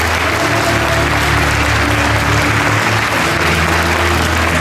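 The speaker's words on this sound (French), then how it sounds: "Oui, vous pouvez les applaudir." Loud, dense applause fills a municipal New Year's greetings ceremony as the audience claps for the mayor's team, steady and unbroken over a low hum.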